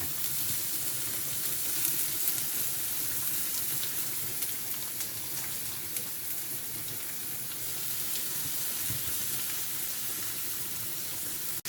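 Urad dal and onion fry in hot oil for a banana blossom dish, giving a steady, close, continuous sizzle with faint crackles and no talking.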